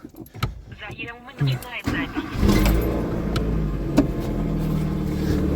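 Daewoo Nubira 1.6 engine after a cylinder head repair, starting up and settling into a quiet, steady idle close by, with a voice talking over it at the start.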